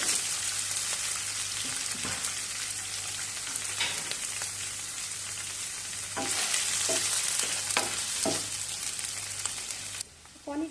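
Paneer frying in hot oil in a pan, a constant close sizzle broken by clattering stirs and spatula knocks, then a sudden drop to near silence at the end.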